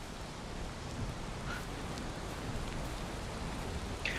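Steady rain falls in the video game Valheim, a dense even hiss of drops that carries on without a break, heard close with no other sounds over it.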